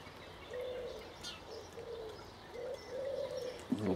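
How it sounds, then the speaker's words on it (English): A pigeon coos repeatedly outdoors, a series of soft, low, rolling calls at a steady rhythm, moderately close, with a faint chirp and a louder rustle near the end. "little pigeon down there."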